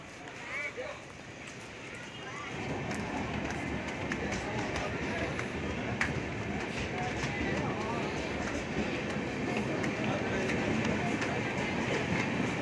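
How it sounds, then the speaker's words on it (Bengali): A train pulling out of a station in Odisha, a steady rumbling roll with rhythmic wheel clatter building after a quieter start and continuing evenly, heard nearby with no voices over it. "ট্রেন ছেড়ে দিয়েছে দেখতে পাচ্ছ ট্রেনও চলে যাবে এবার"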